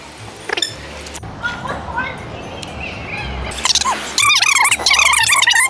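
A puppy gives high-pitched yips and whimpers amid lively children's voices and nearby talking, growing busier and louder toward the end.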